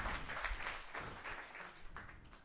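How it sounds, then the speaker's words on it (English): Audience applause after a speaker introduction at a European patent and innovation policy event, a steady wash of clapping across the whole stretch at moderate loudness, with no voices over it. "So a round of applause for him."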